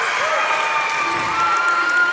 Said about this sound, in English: Somerset Christian's crowd coming alive